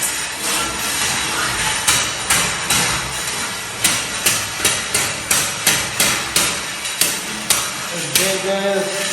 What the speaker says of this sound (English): Got Carlos here, scraping that floor.